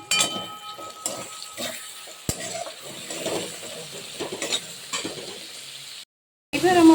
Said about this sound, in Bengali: পোস্ত দিয়ে এবার একটু নেড়ে চেড়ে নিচ্ছি